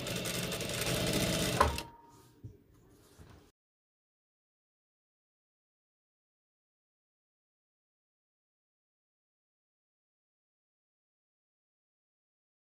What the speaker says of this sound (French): Et je vais coudre à côté.